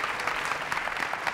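Studio audience applause on a 1996 Turkish television variety show, a dense continuous patter of many hands clapping at moderate volume, steady throughout with no talking over it.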